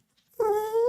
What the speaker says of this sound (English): Run along, little doggy.